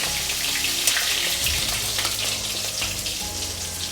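Whole flat beans and green peas fry together in a kadai wok, giving a loud, dense, hissing sizzle with wet spattering that stays steady from start to finish.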